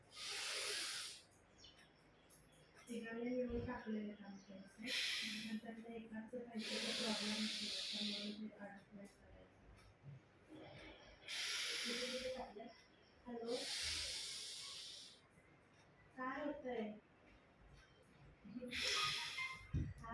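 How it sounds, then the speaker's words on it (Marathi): Alternate nostril breathing in anulom vilom pranayama: long, airy nasal inhales and exhales, about six slow breaths spaced a few seconds apart, close and hissing, with a voice murmuring between them. "अनुलोम विलोम करायचं."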